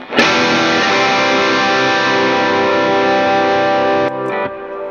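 Electric guitar through a cheap Klon clone overdrive pedal stacked with a boost pedal, one loud, sharply struck chord with a brighter, grittier drive, sustaining evenly for several seconds before being muted, followed by a brief pick scrape.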